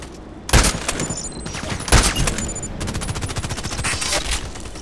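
Handgun shots in the first-person shooter Contract Wars: several sharp, loud reports at an uneven pace, the biggest near the start and a faster cluster later on, with game noise between them and no talking.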